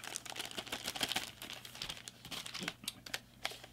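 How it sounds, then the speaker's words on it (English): A plastic bag crinkles around a game cartridge for the original Nintendo, quiet close crackles and rustles in irregular bursts throughout, without any talking. "Nice plastic bag, help protect it."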